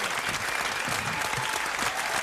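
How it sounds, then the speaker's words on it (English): Studio audience applause at a hip-hop interview show, a dense steady wash of clapping that fills the whole stretch without a break, loud and close with no voices on top. "Keep those applause going"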